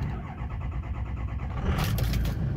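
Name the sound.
diesel pickup truck engine cold start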